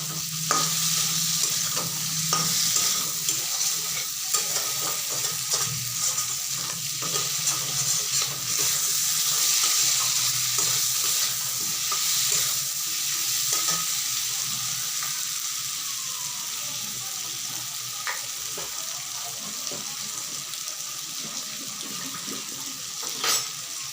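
Potato and paneer curry sautéing in a pan makes a continuous loud sizzle, with repeated spatula scrapes and taps against the metal over a long stretch.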